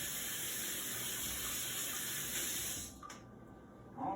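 Water runs from a kitchen tap while something is rinsed, a steady hiss that cuts off near the end and leaves a quieter room with a small clatter.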